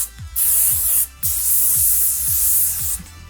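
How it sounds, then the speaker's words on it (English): Hairspray is sprayed onto a big afro in long, loud hissing bursts, about three of them, each lasting a second or more, with brief pauses between. "I'm putting all this hairspray"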